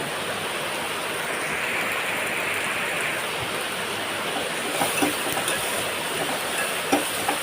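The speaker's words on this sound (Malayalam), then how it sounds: "നല്ല മഴയാണ് ഞങ്ങളവിടെ ഒപ്പം." Heavy rain falling outside a home during monsoon weather, a dense, even hiss of downpour that stays loud and constant throughout, with a few faint knocks near the end and no voices.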